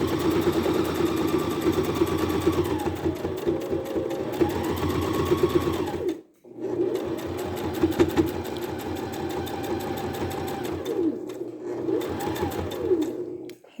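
A sewing machine stitches an applique mug rug in a fast, steady mechanical whir close up, pausing briefly midway before running again.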